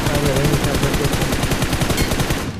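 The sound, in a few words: gunfire in BGMI video game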